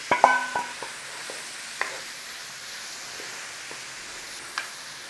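Onion and celery softening in a soup pot, a soft hiss of gentle frying broken by a few sharp clinks and scrapes of a utensil stirring, louder at the start, then quieter.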